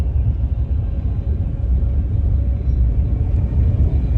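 Steady low engine rumble from inside a car during a driving lesson, easing up gently as the driver adds throttle, with a constant muffled drone and no other sounds.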